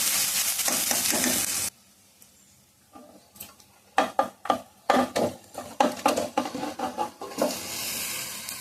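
Fish pieces go into sizzling curry masala in a pan. A loud sizzle cuts off to near quiet, then bursts of spitting and scraping pulses return irregularly before the sizzle builds steadily again, with no speech.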